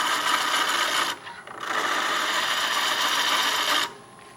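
Hand tool making flat cuts, two sustained raspy scraping strokes close by, the first about a second long and the second longer, separated by a short pause.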